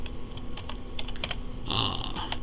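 Typing on a computer keyboard while entering a calculation, a quick irregular run of clicking keystrokes, close and clear, over a steady background hum with no talk.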